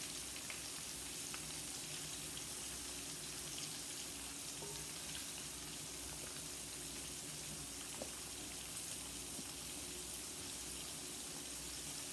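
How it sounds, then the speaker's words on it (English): Chicken nuggets fry in a pot of hot oil, giving a dense, even sizzle that holds steady and loud throughout with no talking. "So we're gonna get these in a pot, go ahead and fry them"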